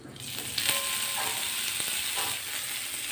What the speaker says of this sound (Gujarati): હવે આ જે મેથી છે એને આપણે ઘીમાં સરસ રીતે શેકી લેવાની છે